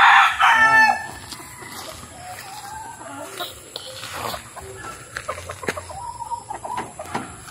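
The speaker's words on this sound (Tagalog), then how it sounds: "magpakain mo tayo ng ating mga alagang manok" Backyard chickens at feeding time, with a loud rooster crow at the start followed by scattered hen clucks and bird calls, fairly close, over low outdoor background noise.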